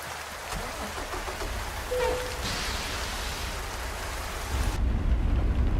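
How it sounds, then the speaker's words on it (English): Heavy rain in the truck-driving video game American Truck Simulator pours steadily in a dense, hissing wash near Hot Springs, Arkansas, with a low rumble beneath and a brief rise in low-end roar near the end. "It is raining hard."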